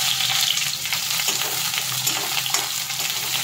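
Chopped onion sizzles and crackles steadily in hot oil, a dense, close frying hiss with light stirring scrapes and no voices.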